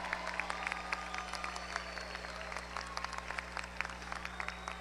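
Applause for a runner-up singer at a national Italian music festival: steady scattered clapping from a crowd, fairly faint and distant over a low constant hum.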